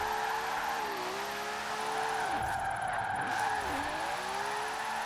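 Toyota fitted with a Nissan engine racing in Forza Horizon 4, its engine droning steadily at high revs with pitch dipping and recovering around shifts or corners, continuous and close with no talk.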